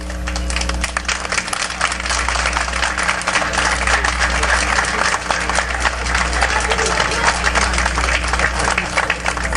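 A crowd in Jacmel, Haiti stands and applauds the president of the Republic at the inauguration of a training centre; dense, steady clapping fills the whole stretch beneath a loud, constant low hum from the sound system.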